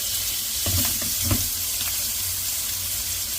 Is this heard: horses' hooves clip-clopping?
no